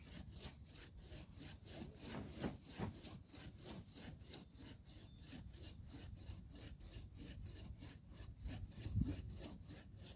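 Rhythmic back-and-forth strokes of a hand saw cutting wood, quick and regular throughout, heard close up with no talking.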